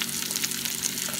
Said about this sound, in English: I just took the frozen spinach and now I'm just stirring it into there.